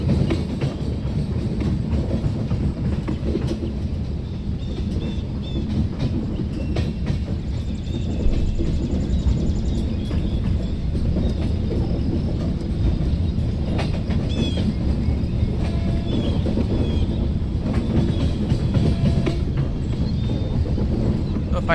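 Indian passenger train in a train simulator game, the 13006 Amritsar–Howrah Mail, running along the main line with steady rumbling and rhythmic clickety-clack of wheels on rail joints, continuous and moderately loud.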